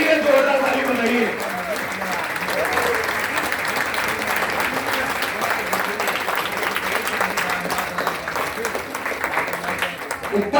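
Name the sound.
audience applause at a meeting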